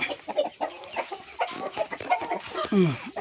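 Several hens cluck and murmur close by in a busy, overlapping chorus, with one drawn-out squawk near the end.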